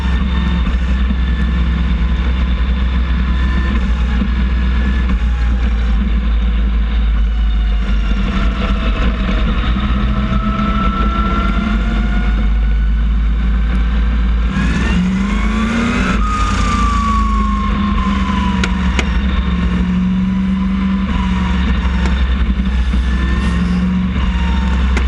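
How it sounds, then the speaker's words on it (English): In-car recording of a super modified small block race car engine at Lee, a loud, steady roar that stays dense throughout, with pitch sweeps as the engine revs up and down, close and without talk. "we're going to show you some in-car camera from Jake Sturgis's Super Modified Small Block Super at Lee"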